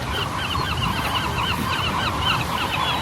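A flock of seagulls crying and squawking over food a sea lion has thrown up, with loud, repeated overlapping calls over a rushing background of surf.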